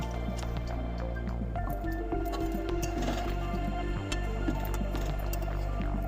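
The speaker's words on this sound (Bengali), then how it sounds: "এই মগের হাফ মগ জল আমি দিয়ে দিচ্ছি।" Half a mug of water poured into a cooking pot of fish-head and kohlrabi curry, heard as faint splashing and dripping over a steady low hum of a kitchen burner, with occasional light clinks.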